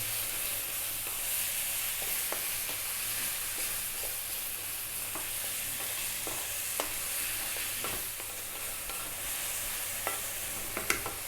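Beef curry stir-fries in a hot pan over high heat, giving a steady, even sizzle with scattered scraping clicks from stirring.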